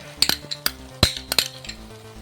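A spoon mixes frankie masala, red chili and tomato ketchup in a bowl, making a run of close, sharp clinks and knocks against the rim in an uneven rhythm with no talk.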